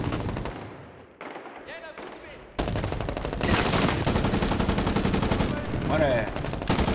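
Rapid bursts of machine gun fire in Medal of Honor Warfighter crackle loudly, with dense rattling volleys over a noisy, busy background; someone speaks briefly in Spanish in between.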